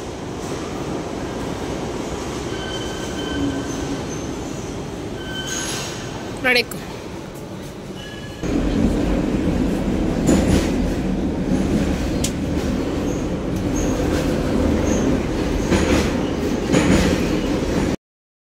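A Russian metro train rumbles steadily with a brief high squeal partway through, then the roar grows louder and denser as it picks up speed.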